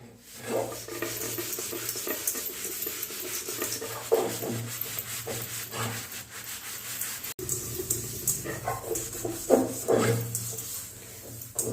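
A rusty iron kadai is scrubbed on its outer surface, producing continuous rough rubbing strokes in an uneven back-and-forth rhythm, close and fairly loud with no speech.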